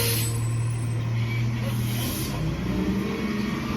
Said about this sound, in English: Hey, the garbage guys are here.